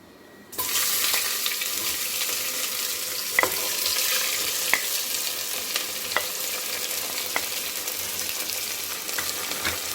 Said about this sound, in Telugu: ఇప్పుడు ఉల్లిపాయలు వేస్తున్నాను